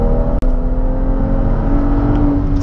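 A BMW 135i with 340 hp revs hard from inside the cabin, giving a loud, steady exhaust drone with a rising tone and one sharp click near the start.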